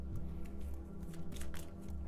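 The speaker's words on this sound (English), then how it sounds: "Shuffle up my first hand." Cards from the Clank! deck-building board game are shuffled by hand at close range, with a few quick riffling bursts over a low background hum.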